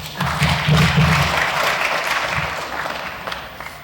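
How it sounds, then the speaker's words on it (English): Scattered applause at a UFC 243 press conference, a modest burst of clapping from a small crowd that swells briefly then thins out and fades to a few lingering claps. "thanks to all 5 people that clapped"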